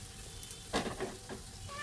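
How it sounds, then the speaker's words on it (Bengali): Food frying in a wok sizzles softly while the wok is lightly shaken and the contents stirred, giving a few short scraping bursts over the constant hiss. "এরকম করে হালকা কড়াইটা নেড়ে দিব, যাতে পুরোটা ভালো করে হয়"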